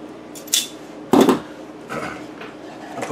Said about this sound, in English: So I just strip about 1 inch of it.